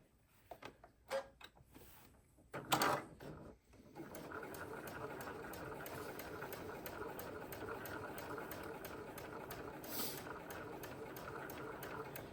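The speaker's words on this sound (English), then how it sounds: "I'm going to sew a 1/4-inch seam just right down this raw edge" A home sewing machine stitches a quarter-inch seam along the raw edge of two fabric pieces for a nine-patch pillow, a steady whirring hum running for several seconds after a few short clicks and handling sounds.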